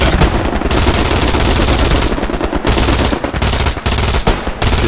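MG42 machine gun in the Hell Let Loose video game firing loud, sustained automatic bursts with brief gaps between them, close and dominant, with no talk.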